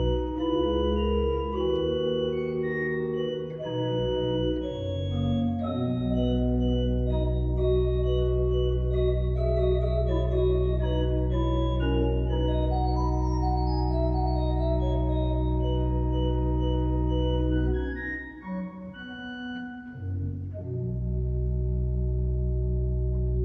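A pipe organ at Saint James in Davis, California sounds its larigot 1 1/3 foot mutation stop, sustaining bright held chords that shift slowly with a brief break near the end, full and resonant with no talk.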